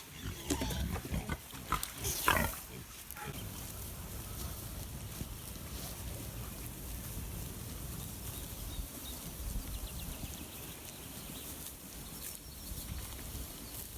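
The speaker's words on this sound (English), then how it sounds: "So all the pigs are up except Reuben, the big boar." Pigs on a forest farm grunting and rooting close by, with a brief louder burst near the start, over steady outdoor wind and rustle throughout.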